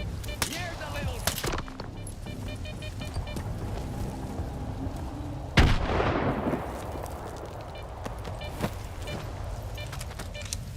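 Gunfire in DayZ on the Sakhal map, several sharp shots and one loud blast near the middle, with someone talking at times over game ambience.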